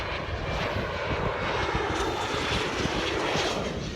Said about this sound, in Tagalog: Aeroplano bumaba, hindi nakita.